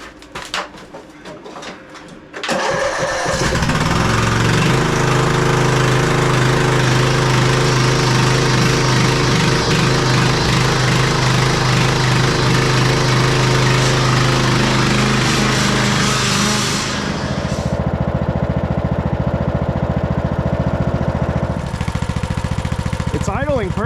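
A Husqvarna lawn tractor engine idles outdoors after warming up, a loud steady running drone that starts abruptly after a few seconds and continues throughout, with a change in tone near the end.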